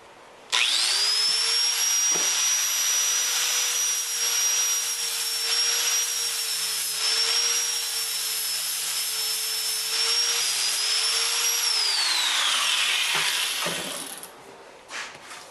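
A power sander with 80 grit works a knife made from saw-blade steel, a high, steady whine running close and loud for about twelve seconds before winding down.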